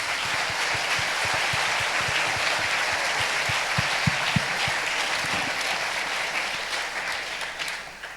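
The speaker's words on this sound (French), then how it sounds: "je crois qu'on peut l'applaudir" An audience gives the teacher a full, loud round of applause, a dense sustained clatter of many hands with a few sharper claps standing out, tapering slightly at the end.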